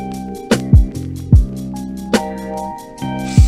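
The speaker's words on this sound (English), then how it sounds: "and you want your drums to sound like this" Boom bap drum beat processed with transient shaping, Neve 1073-style preamp and EQ plugins, with punchy, clear kicks and snares hitting in a steady hip-hop pattern over a looping sample, alone with no talking.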